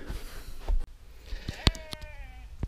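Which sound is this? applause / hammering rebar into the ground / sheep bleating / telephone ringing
sheep bleating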